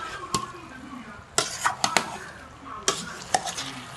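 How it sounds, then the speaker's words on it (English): Okra fries in a pot over a low flame with a steady faint sizzle, broken by a few sharp scrapes and clinks of a spoon against the pot. "Fry your okra. Fry it very well."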